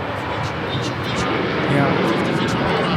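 A fixed-wing airliner's engines roar steadily down runway 25 right at LAX on its takeoff roll, a broad, continuous rumble that swells slightly toward the end, with voices talking over it.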